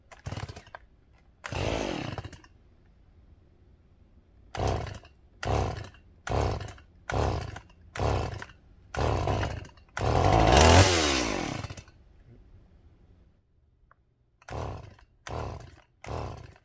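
A chainsaw used for felling and bucking a tree, its engine roaring loudly in a string of short revving bursts separated by brief quiet idle gaps, close to the microphone.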